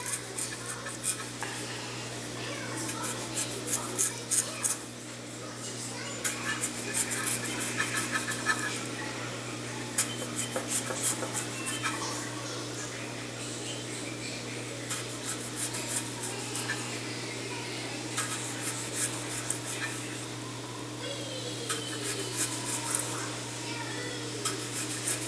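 A knife slicing repeatedly into a potato for hasselback potatoes, stopping short of cutting all the way through, gives soft close scraping strokes in irregular bursts over a steady low background hum.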